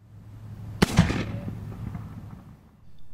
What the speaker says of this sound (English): I'm going to walk to the line, shoot a launcher, and keep moving as I do it